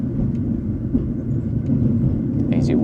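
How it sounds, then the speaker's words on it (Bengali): A train headed for Tashkent on the opposite track rumbles past a platform where a bullet train has stopped, a low steady roar with a brief higher screech near the end. "এই যে উল্টো দিকের ট্রেন, এটা তাশখান্দ যাচ্ছে।"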